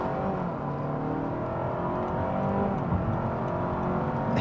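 A 2026 Honda Civic Hybrid Sport accelerating in normal mode, its engine and road noise a steady, moderately loud drone that holds even and continuous for the whole stretch, with no voices over it.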